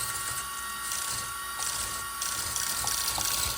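Servo motor in an RC10B7 buggy whirring in short bursts as the wheels are turned, a thin mechanical buzz rising and falling in quick pulses over steady electronic hum, close up with no talk.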